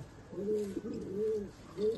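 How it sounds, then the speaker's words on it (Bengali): A Murshidabad pigeon cooing close by, three soft rolling coos in a slow repeating rhythm against a quiet background. "এই মুর্শিদাবাদের পায়রা?"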